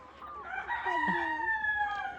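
A country rooster crows loudly and nearby on a farm, with a long drawn-out call and hen clucks mixed in beneath it.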